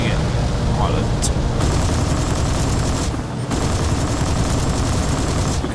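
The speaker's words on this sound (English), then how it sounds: "Now we've got anti-aircraft fire going off as well." Anti-aircraft guns fire in a War Thunder air battle as a loud, dense wall of rapid bursts and rumbling blasts that goes on without a break.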